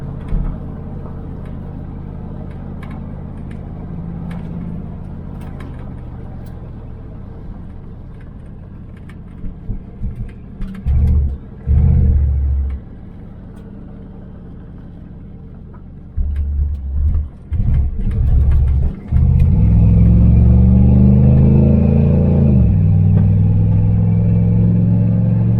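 A 1976 Chevrolet El Camino engine idles with a low, steady rumble, then blips and revs in short bursts before pulling away in a loud, sustained acceleration, heard up close with no talking.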